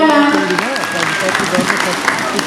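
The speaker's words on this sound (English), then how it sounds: "Please clap for Dr. Preeti Maurya ma'am" An audience at a school annual function claps in a dense burst of applause, with voices and a loud tonal sound mixed in over it.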